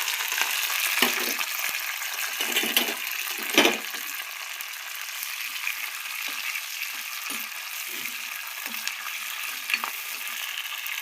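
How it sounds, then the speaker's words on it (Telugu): Mustard seeds, cumin, dried chillies, curry leaves and garlic sizzle and crackle in hot oil for tempering, a steady close hiss broken by occasional stirring scrapes and pops. "పోపు దినుసులు బాగా వేగాలండి, చక్కగా మాడిపోకుండా వేగాలి."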